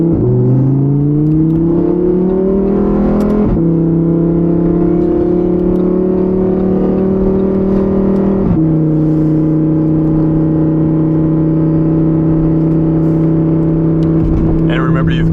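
Lamborghini Huracan Evo Spyder engine revving hard while driving, loud close tones climbing through the revs with two abrupt drops at gear changes, then holding a steady high drone.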